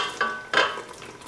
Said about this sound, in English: Our sauce is boiling now, and we're ready to put our flanken in,